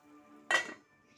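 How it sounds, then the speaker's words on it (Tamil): A lid set down over an appam pan while making sweet Kerala kalathappam: one short metallic clatter, close and fairly quiet, against a faint background hum. "இப்போ இதை ஒரு மூடி போட்டு மூடி வச்சுக்கலாம்"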